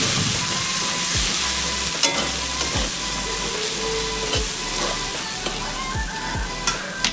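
Ground cumin and spices fry and are stirred together in a pan for a jackfruit and prawn curry, a loud, steady hiss with regular scraping strokes of a spoon, close up.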